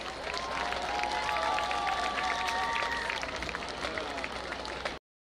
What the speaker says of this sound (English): give a big round of applause to the Huntington High Marching Band